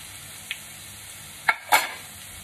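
Ginger garlic paste is stirred into browned fried onions in a pan, giving a faint sizzle with a light tap and then two brief scraping stirs close by.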